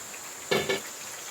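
Battered perilla leaves drop into hot oil at an outdoor campfire beside a valley stream, giving two quick, close sizzling bursts over a steady background hiss.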